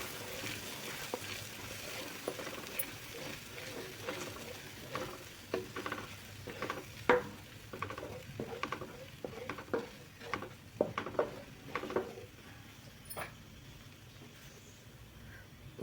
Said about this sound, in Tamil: மல்லித்தலை பேஸ்ட் நம்மளுக்கு பச்சை வாசம் போகிற அளவுக்கு நல்லா வணக்கிக்கோங்க